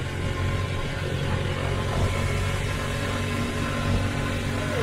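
An EZGo golf cart engine runs at full throttle with a steady, loud drone and broadband road rumble, close and unbroken for several seconds, with no talk.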